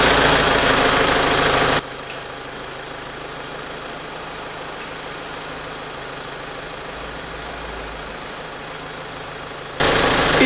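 A 2015 Kia Sorento with about 80,000 km idles steadily in a workshop during a transmission fluid change, giving a continuous low engine drone with faint ticking, close by and with no voices.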